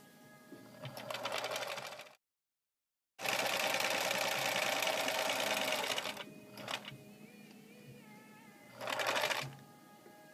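A sewing machine runs in steady bursts while stitching fabric freestyle, with a longer continuous run in the middle and a brief pause, then a short final burst, loud and close with no talk.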